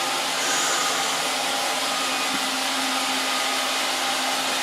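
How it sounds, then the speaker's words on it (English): A Roomba robot vacuum cleaner runs close by with a steady broadband whir and a faint motor hum, constant and unbroken, with no voices. "Roomba, love you, Roomba. You're just going all day."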